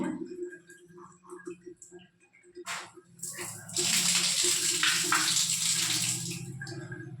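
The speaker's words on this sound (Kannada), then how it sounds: "ಮೇಲಿಂದ ಶವರಲ್ಲಿ ನೀರು ಬರುತ್ತೆ." Water starts pouring from an overhead shower in a newly built home's bathroom, a steady loud hiss that rises after some clicks and faint handling sounds, with a voice speaking before the flow begins.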